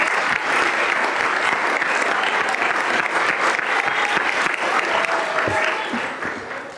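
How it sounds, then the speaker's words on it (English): An audience at a school board of education meeting applauds the student reps with full, dense clapping that holds steady, then begins to fade in the last second or so. "can we have a big round of applause for our student reps last night?"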